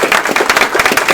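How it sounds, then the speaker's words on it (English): Audience at a federal election debate night in Chatham-Kent Leamington clapping, a brisk, loud burst of many hands rattling steadily close by for about a second. "That's a cue for you guys to clap."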